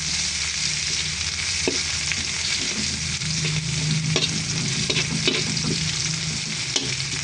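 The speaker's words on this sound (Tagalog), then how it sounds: "Pag nag golden brown na po ang ating bawang, isunod na po natin ang sibuyas." Onion sautéing in hot oil in a pan after golden-browned garlic, for chicken with mushroom, giving a loud continuous close sizzle with scattered crackles and a low hum beneath, no voices.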